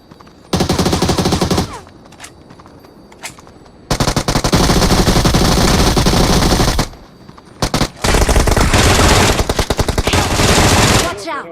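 Long bursts of rapid automatic gunfire, loud and close, broken by brief pauses with scattered single shots, with no talking.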